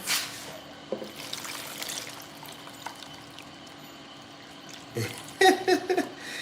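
Water trickles and pours faintly while vegetables are washed for a night-time noodle meal, with soft splashing and a louder burst of rinsing near the end.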